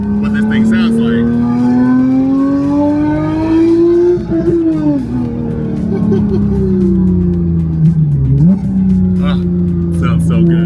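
A Corvette C8 Z06 or Porsche 911 992.1 GT3 roars past, its high-revving engine note rising and then dropping as it sweeps by, loud and sustained, with people talking underneath.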